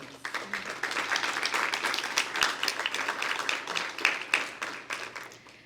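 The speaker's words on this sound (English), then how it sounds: "Round of applause for each of you." Audience applause at an evening fellows' reading at a museum, a steady wash of many hands clapping that carries on for several seconds at moderate volume, with no talk over it.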